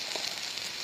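Potatoes, onions and tomatoes sizzle steadily in a hot pan while frying for semolina upma, a continuous close crackling hiss with no one speaking.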